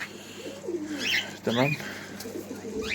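Caged birds at a pet bird and aquarium fish seller's shop, likely cockatiels and budgerigars, with close pigeon-like cooing and chirps alongside brief speech in a busy room.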